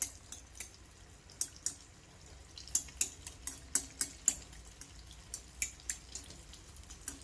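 Jaggery anarsa sweet frying in hot oil as oil is splashed over its top, giving soft, quiet, irregular sizzling pops and drips against a faint low hum.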